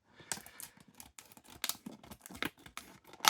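Blister packaging around a Matchbox Volkswagen Golf GTI toy car, 2024 production, being cut open: quiet close snips, crinkles and plastic tearing in an irregular patter.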